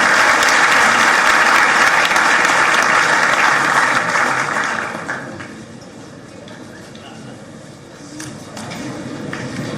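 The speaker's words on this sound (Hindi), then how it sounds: "जोरदार तालियां।" An audience at an official government event in Bhopal attended by Madhya Pradesh's Chief Minister gives loud, sustained applause that fades after about five seconds into quieter scattered clapping and murmur.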